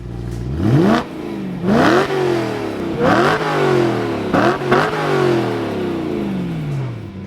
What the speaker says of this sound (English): I'll insert an exhaust clip. It sounds amazing.